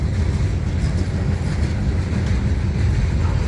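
A freight train departs with a loud, steady, deep rumble of engines and rolling cars that fills the whole stretch, close by and with no voices.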